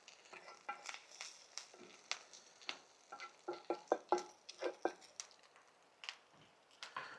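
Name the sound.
egg frying in rendered bacon fat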